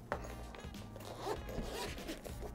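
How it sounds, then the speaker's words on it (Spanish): The zipper of an iFi e-traveler carrying case is pulled open in one continuous close, raspy zip lasting a couple of seconds, with no talking over it. "podemos acceder abriendo la cremallera"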